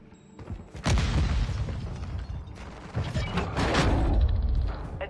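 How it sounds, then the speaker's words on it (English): Grenade blast and battle noise in a battle royale video game: a loud boom about a second in, then a dense rumble of mechanical and gunfire-like sounds with another surge near the end. "Throwing grenade!"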